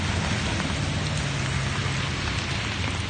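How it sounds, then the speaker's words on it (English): Steady, dense rain falling outdoors on a downtown street in Hillsboro, Texas, a loud, even hiss of drops on surfaces continuing without break and heard alone. "Yes, it's raining."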